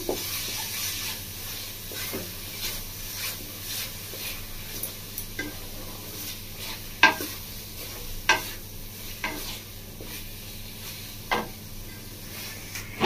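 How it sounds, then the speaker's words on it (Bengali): Sesame seeds being stirred into a sweet pitha filling in a kadai for patishapta, a soft steady scraping with occasional sharp spoon taps against the pan over a low hum, no talking. "তিলটা দিয়ে আরো 1 মিনিট মতো নাড়াচাড়া করে নেবো"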